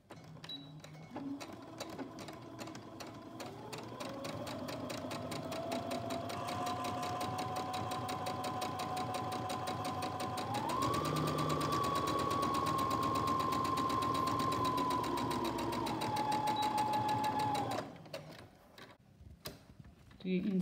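A sewing machine runs a long continuous stitching pass on a rhino mask, its motor whirring steadily and rising in pitch partway through before stopping near the end.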